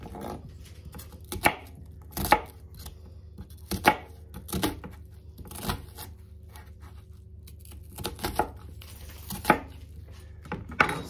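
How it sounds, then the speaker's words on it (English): A knife chops onions on a cutting board, cut the same way as cabbage. About a dozen crisp, irregular thuds ring out up close, with no talking. "for the onions, I'm kind of going to cut them the same as the cabbage"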